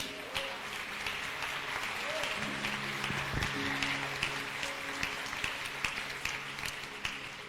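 A church congregation claps together in sustained applause, a steady wash of many hands at moderate distance with faint crowd murmur and a brief tonal hum underneath.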